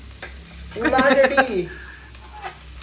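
Chopped onion drops into hot oil and gives a brief, close sizzle lasting about a second. A faint background hum continues before and after it.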